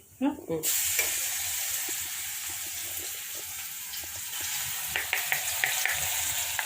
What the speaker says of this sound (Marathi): कांदा लाल झाला आहे, त्याच्यामध्ये मिरची टाकते, याच्यात हिरवी मिरची, लसूण आणि जिरे